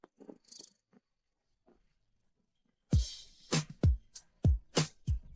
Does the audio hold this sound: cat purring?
yes